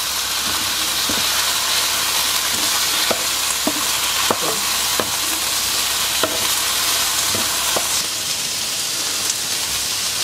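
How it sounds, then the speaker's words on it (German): Fish fillet and vegetables fry in a pan while being stirred, a constant loud sizzle with repeated scraping knocks of the utensil at an uneven pace, close up with no voices. "Jetzt rühren wir das Ganze mal um."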